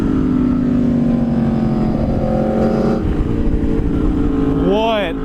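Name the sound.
Aprilia Tuono V4 Factory motorcycle engine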